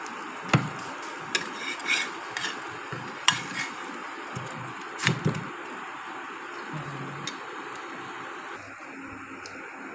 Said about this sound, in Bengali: ডিমটা ছেড়ে দিয়ে এই রুটিটা ছেড়ে দিলাম